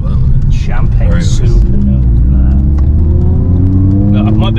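A champagne gold Nissan R35 Skyline accelerating hard nearby, its engine rising in a long, steady climbing pitch under people talking.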